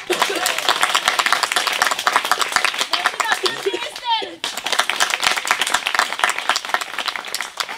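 An audience in a theater claps loudly and quickly for performer Célia at the end of a show. The clapping is sharp and continuous, broken by a short gap with some cheering, and voices can be heard under it.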